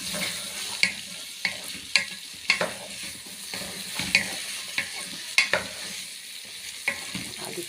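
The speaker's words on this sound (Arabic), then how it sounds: "تقلبي كده لغايه ما يغير لونه اهو" Green fava beans frying in a pan, stirred with a utensil: a steady sizzle broken by sharp, regular scraping and clinking strokes about every half second, close and clear with no talk.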